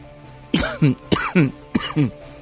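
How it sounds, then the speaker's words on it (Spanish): Three rough coughs in quick succession, each a sharp burst followed by a throaty second pulse, close and fairly loud. "Perdón, la tos que os decía."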